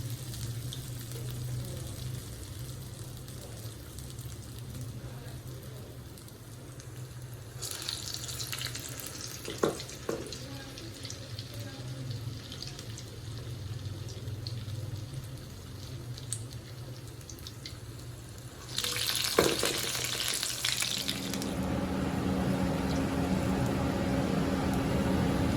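Medu vada, crispy urad dal fritters for Diwali, fry in hot oil in a home kitchen with a soft, continuous sizzle. Louder bursts of bubbling or running water rise twice, and small clicks and clatters come and go.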